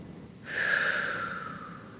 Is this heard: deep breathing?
yes